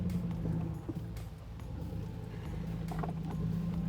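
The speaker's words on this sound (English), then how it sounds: "the engine is pulling me right up" A Hemi-powered Jeep Wrangler JL on 37-inch tires with beadlock wheels, climbing an off-road trail at Rausch Creek, gives a steady, close, low engine rumble with occasional clunks and knocks from the terrain.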